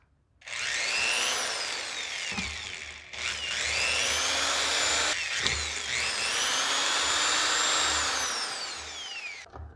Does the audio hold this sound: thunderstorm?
no